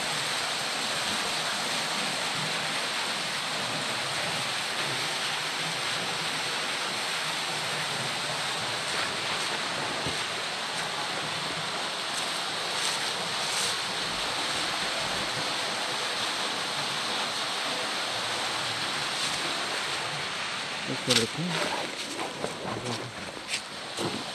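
Water pours out of a cave resurgence at the Gour de Conche near Myon, a loud, steady broadband rush that fills the space without let-up, with a few knocks and handling sounds near the end.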